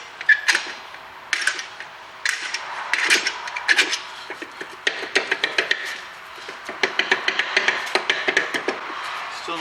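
Turning the adjuster screw on a Toyota Corolla's rear brake produces close, irregular metallic clicks, scrapes and rasping, repeated in short bursts with brief pauses between them.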